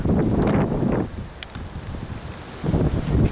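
Strong wind gusts of about 50 mph buffet the microphone in heavy, low rumbling bursts, easing in the middle before another loud gust returns.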